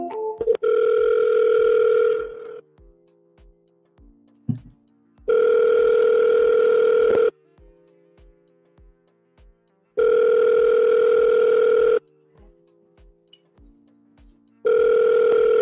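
A telephone ringback tone plays during an outgoing call: a steady two-second buzzing ring repeats four times at regular intervals, with quiet gaps between rings and a faint low hum underneath.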